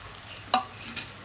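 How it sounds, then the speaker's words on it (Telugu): Ginger garlic paste frying with onion pieces in a pan for a chicken curry, giving a quiet steady sizzle with a couple of brief stirring scrapes, no talk. "ఇది కూడా వేసిన తర్వాత 2 నిమిషాలు వేయించుకుందామండి."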